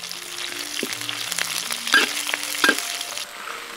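Scallion, ginger and chili frying in hot oil in a wok, a steady close sizzle with a few sharper crackles and clatters, no talking.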